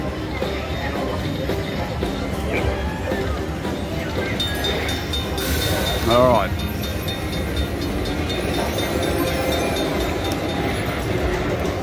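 A Best Bet Lightning Link poker machine plays its train sound effect amid casino hubbub, a rumbling rail-like clatter with a brief rising chime in the middle, while a voice speaks briefly.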